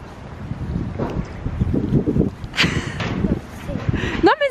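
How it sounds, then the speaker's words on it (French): Strong gusty wind buffeting outdoors, rumbling in bursts under people talking, with a sharp rustle near the end. "il y a trop de vent, je peux rien y faire"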